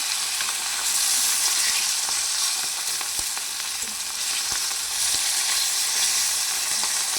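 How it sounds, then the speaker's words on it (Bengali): Fish pieces frying in hot oil in a kadai with one side already cooked, giving a steady, close, continuous sizzle and crackle with no talking. "একদিকটা ভাজা হয়ে গেছে,"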